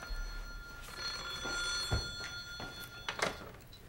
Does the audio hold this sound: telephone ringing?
yes